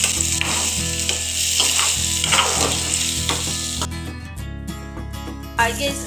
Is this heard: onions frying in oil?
yes